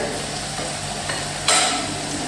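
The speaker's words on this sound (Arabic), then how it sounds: "باش نخلي طرفين سكالوب يتشويو في الزيت" Escalope frying in hot oil gives a loud, steady sizzle throughout, swelling into a brighter hiss partway through, with no voices.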